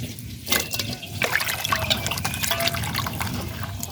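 Cut figs are rinsed in water by hand, giving continuous close sloshing, trickling and dripping with small splashes and no talk.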